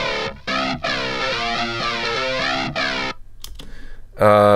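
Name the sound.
phaser guitar intro track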